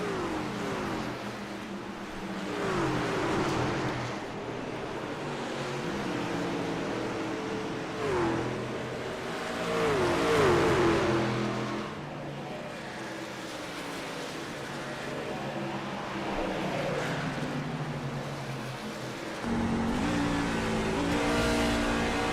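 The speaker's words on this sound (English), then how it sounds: "A little bit of a shift there on the 19 truck, sounds like, down the third up to fourth" A loud race truck engine, the No. 19 truck at Nashville Superspeedway, roars steadily, its pitch dropping and climbing as it shifts down to third and back up to fourth, with other engines droning around it.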